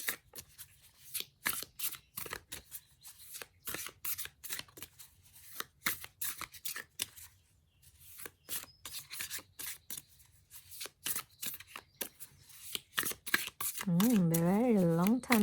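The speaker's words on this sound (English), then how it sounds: "Very long time to shuffle." Tarot cards are shuffled by hand at close range for a long spell, a rapid run of riffling, papery slaps and rubs broken by brief pauses, with a wavering tone near the end.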